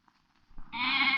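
A goat gives a single loud, drawn-out bleat, close by and rising out of near silence, with a few faint rustles before it.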